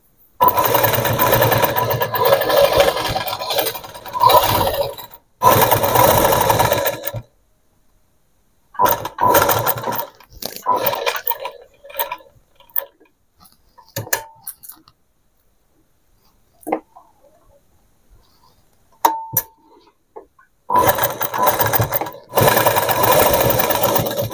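A sewing machine stitches fabric for a long gown in fast whirring bursts, starting and stopping between short pauses, loud and close with small clicks in the quiet gaps.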